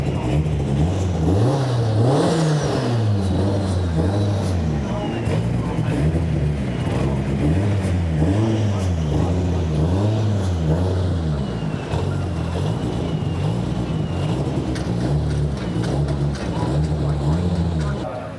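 A modified Japanese tuned race car engine at Attack Tsukuba revving repeatedly, loud and close, with rising and falling throttle blips over a rough idle and a voice talking beneath it.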